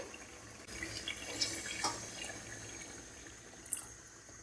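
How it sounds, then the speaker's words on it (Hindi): Water is added to chicken korma in a pot, a soft, quiet pour and splash with a few brief spattering bursts, close by and without talk. "अब हम इसमें पानी ऐड करेंगे।"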